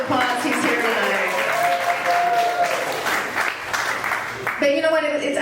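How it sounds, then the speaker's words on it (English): Comedy club audience breaking into a burst of applause and some cheering, a dense clap that settles down, with a voice speaking over it near the end. "Give him a round of applause."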